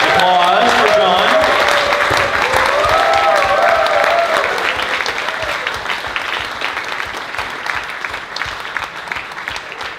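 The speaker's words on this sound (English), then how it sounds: "applause for John." A convention audience at a closing ceremony bursts into loud, dense applause with cheering voices and whoops, gradually tapering over ten seconds.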